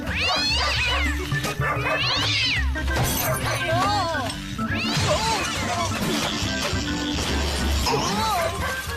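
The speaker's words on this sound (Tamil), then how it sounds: "இந்த பூனை எப்படி இங்க வந்துச்சு?" A cartoon cat in a Tamil animated show meows and yowls repeatedly, loud drawn-out wavering cries over a busy soundtrack with crashes and thumps.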